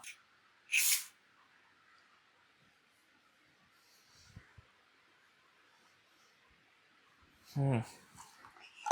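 Two short hissing sprays of perfume, one near the start and another near the end, separated by quiet room sound with faint rustling.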